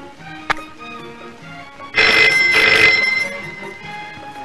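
An indoor telephone rings in a loud, close burst of rapid bell trills lasting about a second, preceded by a single sharp click and set against quiet room tone.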